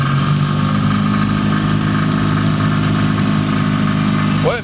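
Dué Initial microcar engine running steadily under acceleration, a continuous buzzing drone heard from inside the small car, loud and constant with no voices.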